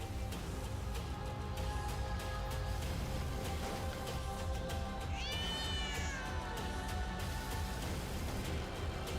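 A cat meows once over a steady, dense background rumble, the cry rising and falling, moderately clear against the constant noise.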